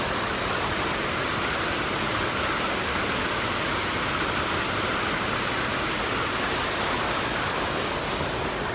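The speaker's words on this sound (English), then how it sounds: "Waterfall number 1 of the day, Sycamore Falls" Sycamore Falls roars as a steady, loud waterfall at close range, a dense continuous rush of falling water with no voices.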